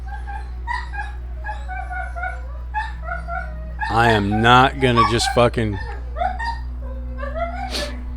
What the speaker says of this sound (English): Dogs are going nuts. No way around that. They're just playing and goofing.